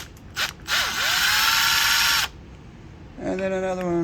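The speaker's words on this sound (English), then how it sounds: "We've got a Milwaukee nut driver here. We're going to remove these two screws." A Milwaukee power nut driver whirs in a short burst and then a longer run as it backs out T27 Torx screws on a Cub Cadet carburetor housing, followed by a whining spin-down, all close by.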